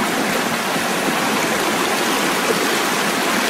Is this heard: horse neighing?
no